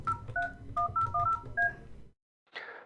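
A telephone keypad dials a number in a quick series of about ten clear DTMF tones, followed by a short pause and a burst of line noise as the call connects.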